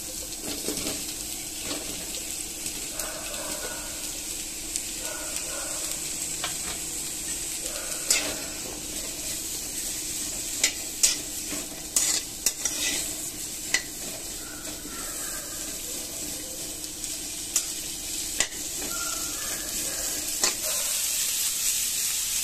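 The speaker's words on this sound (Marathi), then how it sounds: "त्या तेलामध्ये आपण हा कांदा आधी थोडासा परतून घेऊया मऊ होईपर्यंत।" Chopped onion softening in hot oil in a pan for an egg curry, a continuous close sizzle with scraping stirs and occasional sharp clinks of a spoon against the pan.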